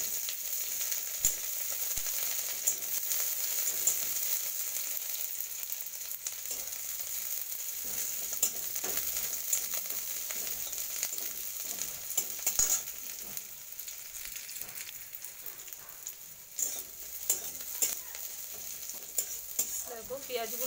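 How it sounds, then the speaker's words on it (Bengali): Onions frying in hot oil in a wok, a loud steady sizzle with occasional stirring scrapes running throughout, no voices. "কড়াইয়ের তেলটা গরম হয়ে গেছে। আমি পেঁয়াজগুলো দিয়ে নিই।"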